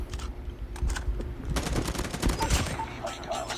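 Gunfire in the mobile shooter Call of Duty: Mobile, with rapid automatic bursts crackling through the middle stretch over a constant low game rumble, fairly close and punchy.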